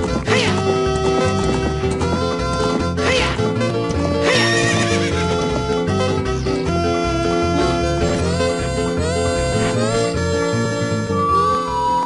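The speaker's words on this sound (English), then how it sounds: "This is actually the only point in the game when you can ride these other horses." Horses in The Legend of Zelda: Ocarina of Time whinny loudly and hooves clip-clop over a busy orchestral music bed, with a few crashing hits along the way.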